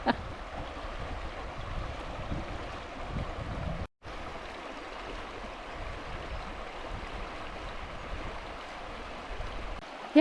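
River stream flowing near Arrowtown, New Zealand: a steady broadband rush of moving water, close and continuous, with a brief dropout midway and no talk over it.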